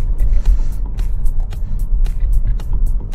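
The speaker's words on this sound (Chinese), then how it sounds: "我们先来体验一下它的加速啊，地板要走" A Volvo S90 plug-in hybrid accelerates at full throttle with a loud, steady low rumble and throbbing hum heard from inside the car, with no talk over it.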